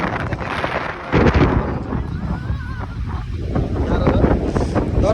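Wind gusts buffet the microphone on the Pharping bridge, a loud, rumbling roar that swells and eases throughout, with faint voices underneath.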